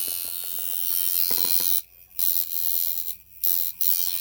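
Coil tattoo machine tuned to run at about 8.5 to 9 volts, a loud close buzz running continuously with a few short cut-offs and restarts, no talk.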